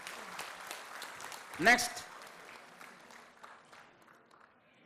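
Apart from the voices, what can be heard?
audience applause at award ceremony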